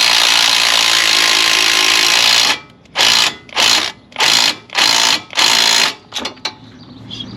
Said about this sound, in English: So I gotta carve my own threads into this thing.